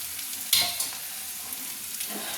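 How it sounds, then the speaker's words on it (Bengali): Poppy seeds frying in a pan for a bitter gourd and potato dish give a soft, steady sizzle, with a couple of brief scraping stir sounds and no talking. "এই পোস্তটা আমি কড়াইতে তাওয়াতে দিয়ে দিলাম ভাজার জন্য"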